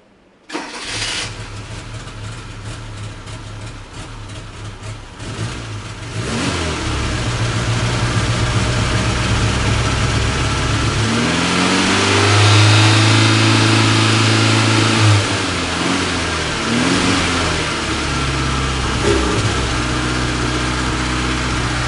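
A Fiat car engine cranks and catches, settles into a rough idle, then revs up and down several times before easing back, loud and close.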